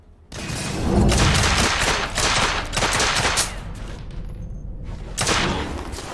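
Shotgun blasts and heavy gunfire in a firefight in The Order 1886, with loud, repeated booming shots in bursts close by, then a brief lull before another burst.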